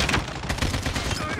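Rapid gunfire in the Call of Duty video game, a dense, loud burst of overlapping shots lasting about a second and a half with no talk.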